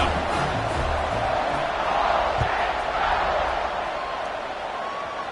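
A football stadium crowd roars and cheers steadily as a kickoff nears, a broad, sustained wash of distant voices that fills the whole stretch without letting up.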